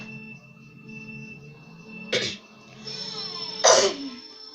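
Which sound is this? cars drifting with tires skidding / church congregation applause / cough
cough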